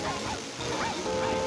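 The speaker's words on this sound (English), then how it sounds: "There's a dog in the forest." A cartoon dog barks and yips in a forest, giving a few short, bright barks and whimpering cries over a steady background hum, with no clear talking.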